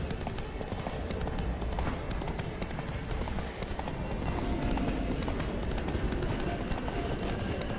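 A horse gallops at speed in The Witcher 3, its hooves clip-clopping in a fast, continuous rhythm under dense game ambience. The sound stays steady and moderately loud for the whole stretch.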